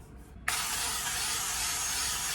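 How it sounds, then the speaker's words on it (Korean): Scallions frying in oil for scallion oil for fried rice: a loud, steady broadband sizzle that bursts in suddenly and holds without a break. "먼저 볶음밥의 기본 파기름을 내줄 겁니다"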